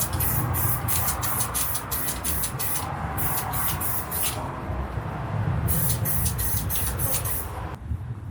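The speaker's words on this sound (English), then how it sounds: "I remembered I've got one of these and put it on and gave it a spray" Spray foam insulation from an aerosol can sprayed inside a Ford Transit van during a conversion, a loud close hiss in repeated short bursts with brief gaps, ending abruptly.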